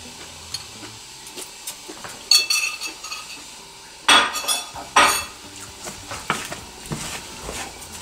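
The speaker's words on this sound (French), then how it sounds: "Je remue." Utensil scraping and clinking against a pan as vegetables with a spoonful of water are stirred, several sharp metallic scrapes over a soft sizzle, close and without voices.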